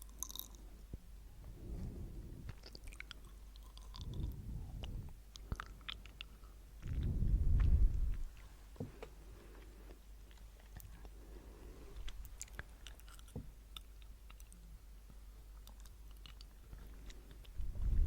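Crunchy bites and chewing of a Leonard Parli treat, a soft galette with candied fruit, come close to the mic. Soft chewing recurs through a quiet stretch, with a louder crunch burst around the middle.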